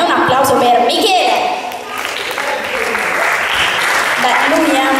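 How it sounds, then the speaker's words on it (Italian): Cabaret crowd breaks into applause for a contestant, steady loud clapping with voices mixed in, easing briefly before swelling again. "Un applauso per Michele"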